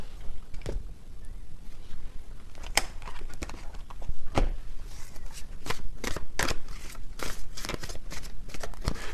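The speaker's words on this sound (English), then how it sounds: "Let me get a few more tarot cards here." Tarot cards shuffled and drawn close by, with soft riffling and flicking, sharp snaps and slaps as cards land, in irregular bursts with no talking.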